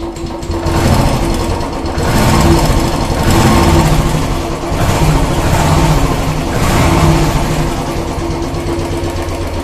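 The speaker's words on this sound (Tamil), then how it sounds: "இப்போ உங்களுக்கு பைக்கை நான் ஸ்டார்ட் பண்ணி காமிக்கிறேன் பாருங்கள்." A Royal Enfield Classic 350 motorcycle engine runs close by after a carburettor cleaning, holding a steady, rhythmic low-speed idle with slight swells in loudness and no talking over it.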